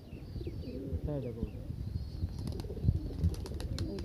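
Pigeons cooing in low, rolling calls amid some clatter and movement, with muffled voices in the background.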